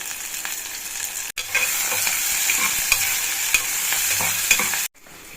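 Cinnamon, cloves and onions for a methi chicken curry stirred in a hot pan: a loud, steady sizzle with scraping spoon strokes throughout, briefly cut off twice, with no voices.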